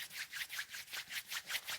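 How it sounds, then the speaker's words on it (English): Palms rub together briskly during a Kundalini yoga session, making a soft, quiet, rhythmic swishing of about a dozen quick strokes with no talking. "Let's bring the palms together and rub them."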